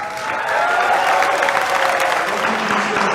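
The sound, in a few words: audience applause at a live show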